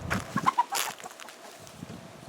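Backyard garden chickens clucking close by, a quick burst of several sharp clucks in the first second, then a quieter trailing murmur.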